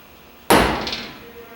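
A single sharp hammer blow strikes a centering punch to mark a differential drive pinion against its flange, a loud metallic crack with a brief ringing decay and nothing else.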